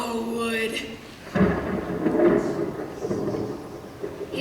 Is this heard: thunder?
yes